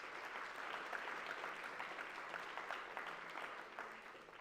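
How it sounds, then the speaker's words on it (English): Audience applause fills a school reading awards ceremony, steady and dense for the whole stretch with no talk over it, moderately loud with faint individual claps standing out. "Let's give a round of applause."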